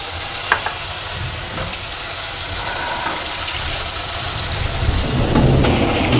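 Masala frying with poppy seed and cashew paste, a loud continuous sizzle and bubbling with a couple of sharp knocks early on, swelling toward the end.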